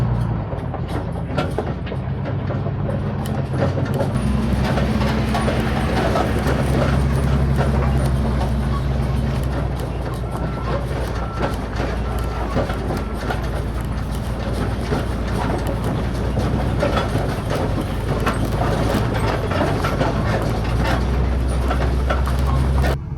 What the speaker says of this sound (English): I'm gonna get some shots of the trailer pulling out of here